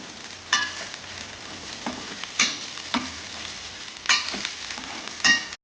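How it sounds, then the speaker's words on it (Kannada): Chopped onions frying in hot oil in a pan, a steady soft sizzle punctuated by several brief scraping stir strokes at irregular intervals, close and clear with no talk. "ಈಗ ಹೆಚ್ಚಿಟ್ಟ ಎಲ್ಲ ಈರುಳ್ಳಿಯನ್ನು ಚೆನ್ನಾಗಿ ಫ್ರೈ ಮಾಡುವ"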